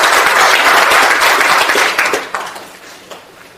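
A seminar audience at the National Assembly welcomes a lawmaker with loud, close applause that swells briefly, then tapers into scattered final claps.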